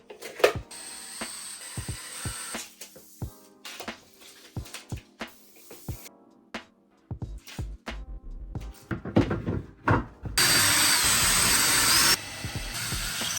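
Power drill boring holes into a wall for pegboard anchors: scattered close taps and handling knocks, then a loud, steady whirring burst of drilling for about two seconds near the end.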